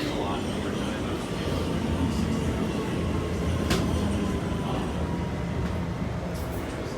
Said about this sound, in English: There goes another R211 A train.